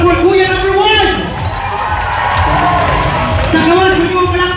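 A concert crowd at a countdown show at a beach resort in Panglao, Bohol claps and cheers loudly and continuously for a contestant, with shouts and whoops over a host talking through the noise.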